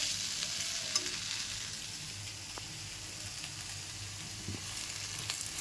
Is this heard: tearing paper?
no